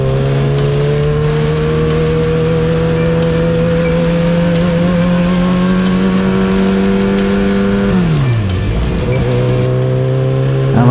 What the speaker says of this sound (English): kind of wish my exhaust was a little quieter